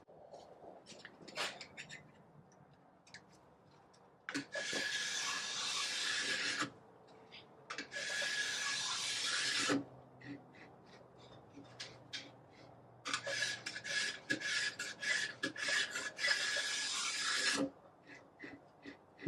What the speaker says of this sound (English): It's going to take so much filing.